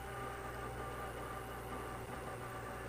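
A Harley motorcycle runs on the road while riding near Bandera, Texas, giving a steady, muffled low engine drone with wind-like rumble, continuous and fairly faint, with no talking.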